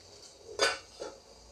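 A lid is set on a cooking pot of water over a low-to-medium flame, making one sharp metallic clank followed by a softer second clink, in an otherwise quiet kitchen.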